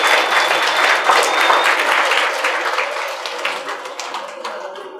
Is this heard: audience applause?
yes